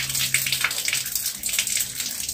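A washing machine filter from a 6.5 kg front-load washer is rinsed under running water, giving a steady close splashing and trickling wash throughout with no talking.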